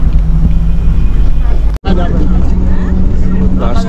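A bus engine rumbling loudly as the bus pulls away, a heavy low drone with wind buffeting, interrupted by a brief dropout, while people talk over it nearby.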